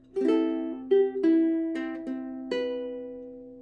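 Ukulele fingerpicked pattern, six clear plucked notes ringing over one another in a slow, even arpeggio, close and alone with no voice.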